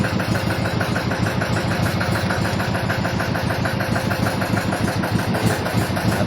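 A fishing boat's engine runs steadily against a strong current, giving a loud, continuous throbbing drone with an even rhythm and no pauses.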